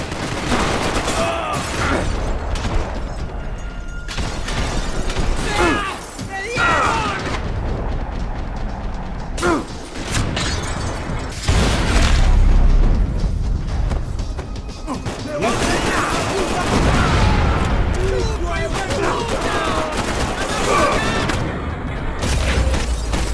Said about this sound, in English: Yeah, those are shotguns.